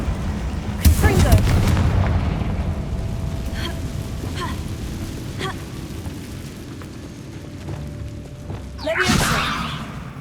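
Fiery Confringo spell blasts from Hogwarts Legacy: a loud booming burst at the start, then rumbling crackle and scattered thuds, with another sharp explosive whoosh near the end.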